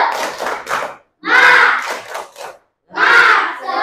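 Schoolchildren in an Indonesian classroom chanting a rhythmic clapping cheer in loud unison bursts, three shouted phrases with claps separated by brief pauses, close and energetic.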